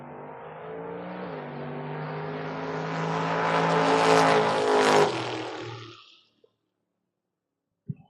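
Chevrolet S10 and Camaro launching side by side in a Door Wars drag race: a loud, rising engine roar that swells for about five seconds, then cuts out abruptly to near silence, with one sharp click near the end.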